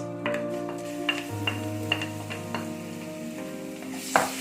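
Ginger garlic paste with fennel and coriander seeds sizzles in a pan for samosa filling, while a spoon scrapes and stirs in several distinct strokes over a low steady hum, with no talking.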